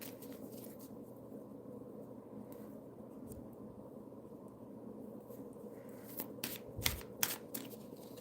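Tarot cards shuffled by hand, giving a soft, steady riffling patter up close that runs throughout, with a few sharper taps and snaps near the end and no talking.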